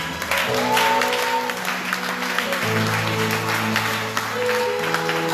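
A church congregation claps and cheers continuously, a dense wash of applause over sustained organ or keyboard chords at a Sunday service, loud and close throughout.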